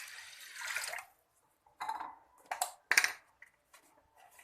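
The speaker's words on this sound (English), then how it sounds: "For 1 cup of basmati rice I am adding 2 cups of water" Water poured into a pressure cooker holding basmati rice, a close splashing pour of about a second, then a few shorter splashes and clatters.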